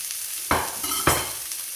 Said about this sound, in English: I've heated this olive oil up. I'm just going to add one medium-sized brown onion that I've just diced up.